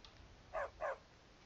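A dog in Skyrim gives two short, sharp barks close together, clear and moderately loud over a faint, quiet background.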